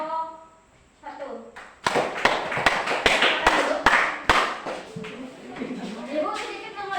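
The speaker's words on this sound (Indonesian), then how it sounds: "Ayo tepuk tangan dulu untuk kelompok 1." Students in a classroom give a group scattered, uneven applause, a handful of sharp, close claps in a short burst amid voices and room chatter.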